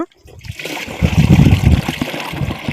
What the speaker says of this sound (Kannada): ಸ್ವಚ್ಛ ನೀರು ಹಾಕ್ಬೇಕು ನಾನು ಹೆಂಗೆ ಹಾಕ್ತೀನಿ ಸ್ವಚ್ಛ ನೀರು ಹಾಕ್ಬೇಕು